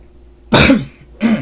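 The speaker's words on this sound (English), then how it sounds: "Sorry about the coughing" Two sharp coughs, close and loud, a harsh burst followed by a shorter one after a brief pause.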